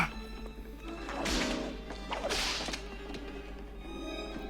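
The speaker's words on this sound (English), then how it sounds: "Skipping along with a whip." A whip cracks twice in a Batman Returns film scene, two sharp loud snaps about a second apart over a busy movie soundtrack background.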